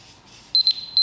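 A kitchen-style timer alarm beeps several short, high, clear tones in quick succession, close by, after a moment of near silence.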